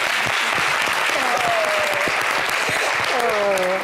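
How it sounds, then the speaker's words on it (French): Studio audience applauding on a French-language TV game show, a steady dense wash of clapping held at an even level throughout, with faint tonal sounds and a little voice mixed in. "Applaudissez pour Samin, s'il vous plaît."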